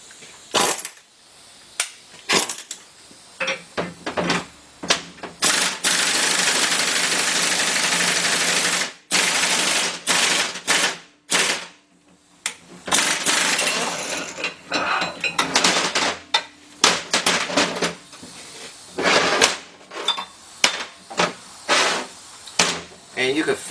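Pneumatic impact gun driving a ball joint into a Jeep Dana 30 knuckle, loud close hammering in bursts of varying length with a long sustained stretch in the middle, separated by short pauses.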